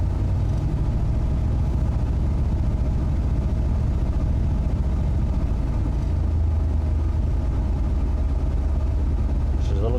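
Cold plow truck engine idling while warming up on a snowy day, a steady low rumble held close and unchanging throughout, with a faint higher hiss near the end.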